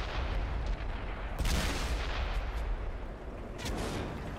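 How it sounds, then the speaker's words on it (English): A tank cannon fires in World of Tanks, a loud booming shot followed by a second blast, set against a steady rumbling engine and battle background. "my round bounced off his fucking turret and went flying off into the distance"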